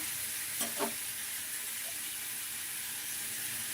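Shrimp masala curry sizzles and hisses in a pan as a small bowl of water is poured in, with a couple of brief splashing stir sounds early on, then a steady fry.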